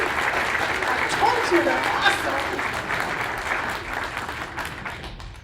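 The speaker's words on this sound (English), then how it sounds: "And give her a round of applause." Audience applause at a civics bee contest in Buena Vista, Colorado, a steady dense wash of clapping from a crowd lasting several seconds, with a voice speaking briefly over it.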